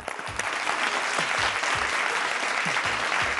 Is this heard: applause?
yes